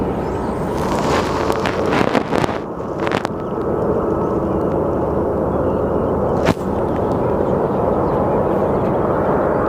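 A JSX Airlines jet at Sky Harbor Airport produces a steady, distant engine roar under gusty wind buffeting the microphone, with a few sharp clattering knocks early on and one brief sharp click midway.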